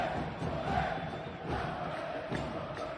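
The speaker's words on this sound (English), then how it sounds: "With the crowd going crazy at VMO." A soccer stadium crowd at an LAFC versus Vancouver match roars steadily throughout, a dense continuous wall of cheering and chanting with surges, filling the whole stretch without clear speech.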